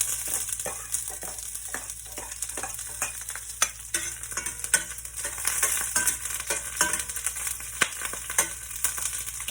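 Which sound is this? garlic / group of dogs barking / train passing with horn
garlic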